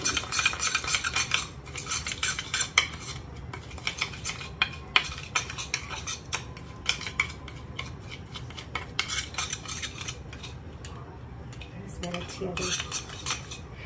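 A spoon scrapes and clinks steadily around a bowl while coffee scrub is mixed with a small piece of lemon, giving close, repeated metallic taps and stirring scrapes with no talking.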